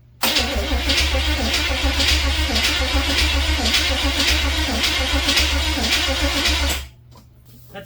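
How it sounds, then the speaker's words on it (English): An engine fitted with a cheap replacement carburetor from Amazon cranks over on the starter with a fresh battery, a loud, rapid, rhythmic churning that runs for about six and a half seconds and then stops abruptly. "I got the better half of Heathen's garage to give it a crank"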